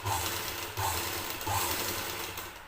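A sewing machine fitted with a double foot stitches thread piping for a blouse, running steadily and close with a low mechanical whir and a faint rhythmic pulse roughly every three-quarters of a second, no voices.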